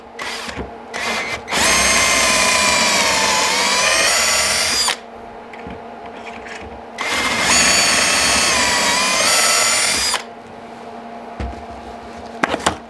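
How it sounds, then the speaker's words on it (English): A power drill bores pocket holes through a Kreg 720 Pro jig in two loud, sustained whirring bursts of roughly three seconds each, separated by a short pause and some quieter handling noise. "Two perfectly drilled freaking pocket holes."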